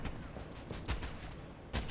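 Two sharp gunshots in Rainbow Six Siege, close and punchy, spaced almost a second apart over a low background hum.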